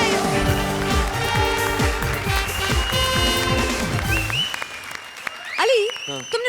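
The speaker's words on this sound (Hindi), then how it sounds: "जोरदार तालियां कपिल और पार्वती के" A studio audience on a Hindi comedy show claps loudly over music with sliding musical tones, before the applause drops away and a voice speaks briefly at the end.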